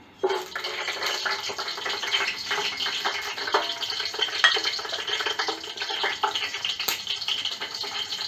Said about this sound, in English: Once the spices start splattering